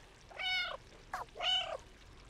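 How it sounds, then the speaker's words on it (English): Two clear meows from a cat in the video game Stray ring out close by, separated by a short pause with a faint chirp between them, over a quiet background. "Ah, stop meowing."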